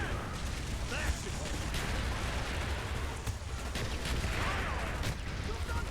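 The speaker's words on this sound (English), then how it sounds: "Don't run into my gunfire." Gunfire in the video game Call of Duty: Black Ops rattles in repeated bursts and bangs over a busy battle din, continuing through the whole stretch.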